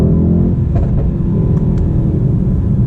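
A Mercedes-AMG E63 S engine rumbles loudly and revs up through second gear in manual mode, deep and throaty, with a brief shift blip midway.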